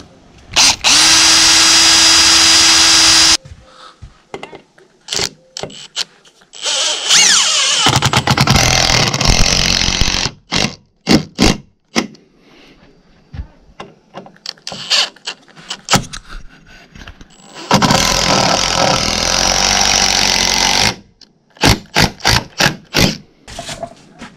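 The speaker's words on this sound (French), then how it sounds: "je vais percer ici et ici et je vais mettre des vis de 160" Makita cordless drill boring holes for 160 mm screws while fitting a Velux roof window, with several loud sustained whirring bursts broken by short clicks and handling knocks, plus brief quiet gaps between runs.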